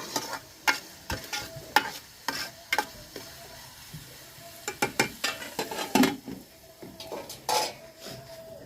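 Tomatoes cooking with salt and turmeric in a pan are stirred, with a soft sizzle beneath irregular metallic scrapes and clinks of a spoon against the pan, close by, and no talking.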